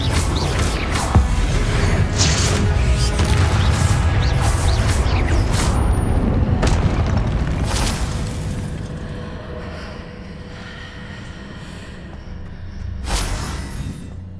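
A Confringo fire-spell blast in Hogwarts Legacy erupts as a loud, sustained booming rumble with whooshing debris, fading over several seconds before a sharp crack of a second impact near the end.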